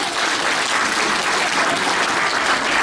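A church congregation applauding together at an anniversary service in Kathmandu, a dense, steady wash of many hands clapping, loud and sustained with no single claps standing out.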